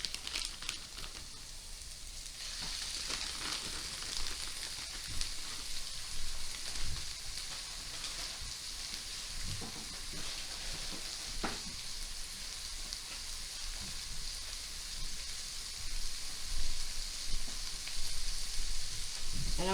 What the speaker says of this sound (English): I'm going to add a little over a pound of hamburger meat.